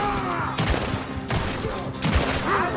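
Gunfire in a Red Dead Redemption 2 shootout, a dense fusillade of repeated shots in bursts, loud and close, with no talk over it.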